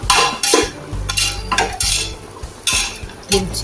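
Mint leaves being sautéed for mutton biryani in a pressure cooker: loud, close scraping and clanking of a metal utensil against the pot in repeated strokes, with a low hiss of frying beneath and no talk.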